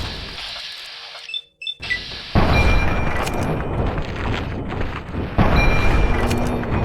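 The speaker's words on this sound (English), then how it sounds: "that's our turret firing at them" Automatic turret gunfire in Fallout 3 rattles out as a sustained, loud burst of rapid shots after a brief dropout, continuing steadily to the end with no talk.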